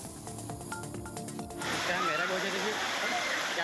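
Flood water rushing after heavy rain, a loud continuous wash that swells in partway through, with a voice talking over the opening moments.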